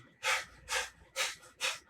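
Heavy breathing during a HIIT workout: four loud, close, breathy exhales come in an even rhythm, with short quiet gaps between them.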